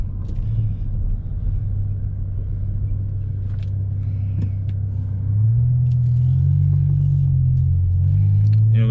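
A BMW E60 M5 with its S85 engine on a test drive gives a deep, continuous close-up rumble that swells louder and climbs in pitch partway through as the revs rise.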